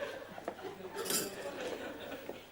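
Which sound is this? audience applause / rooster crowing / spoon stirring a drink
spoon stirring a drink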